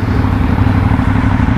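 An Aprilia Shiver 900 naked motorcycle engine idles close and loud, a steady low throbbing rumble with no voices over it.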